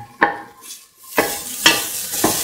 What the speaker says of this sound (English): until the shallots lose their pinkish color. Keep on sauteing.